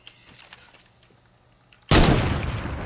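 In the Fortnite video game, a burst of loud gunfire erupts suddenly after a quiet stretch of faint game sounds. It then sustains as a dense, crackling roar.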